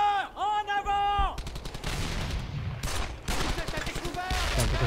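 Rapid gunfire from the player's weapon in the WWII shooter Brothers in Arms: Hell's Highway, a dense run of loud, close shots that follows a brief tonal sound at the start.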